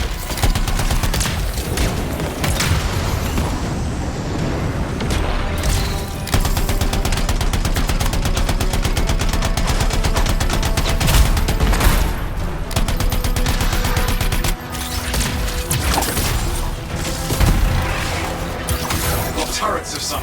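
Turret gunfire in the video game Anthem: dense, continuous bursts of automatic fire and booms, loud and sustained throughout with hardly a break.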